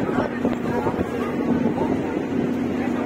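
Aboard the passenger ferry MV Reina del Rosario docked at Odiongan port, a low steady engine hum mixes with wind buffeting the microphone and faint voices nearby.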